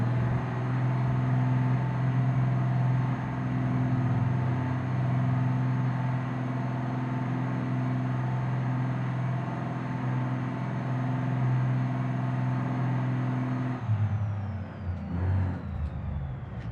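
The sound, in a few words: truck engine climbing in first gear, BeamNG.drive video game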